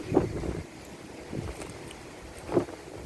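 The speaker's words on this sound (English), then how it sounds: "in this windy day we have the Samsung Galaxy A51" Wind buffets a Samsung Galaxy A51 phone microphone outdoors on a windy day, giving low rumbling gusts that thump in three distinct bursts over a quieter windy background.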